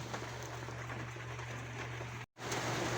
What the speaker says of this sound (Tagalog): Lalong lumalakas yung ulan